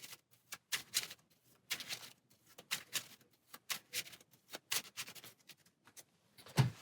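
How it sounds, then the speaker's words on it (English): A deck of cards is shuffled on a tabletop during a Marvel Champions card game, producing quick, soft riffling bursts and light slaps that repeat close up in a quiet room. "See if we can do a better job shuffling."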